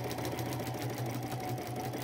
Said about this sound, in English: I am going to use my middle size zigzag stitch and just run a stitch next to that and then trim it off.